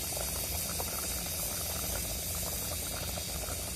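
An eggplant curry bubbles in a pot, a steady close-up simmer with dense popping bubbles and a soft hiss running evenly throughout, no voices.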